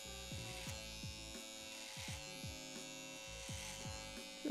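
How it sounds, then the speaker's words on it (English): An electric hair trimmer buzzes close by as it cuts hair over a comb, its hum dipping and rising in rhythmic passes during a haircut. "Just using trimmer over comb."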